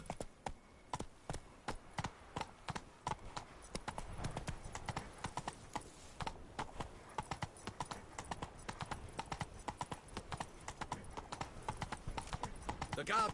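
Roach, a horse in The Witcher 3, gallops with rapid, rhythmic hoofbeats that run close and loud the whole way through, with a faint whinny near the end.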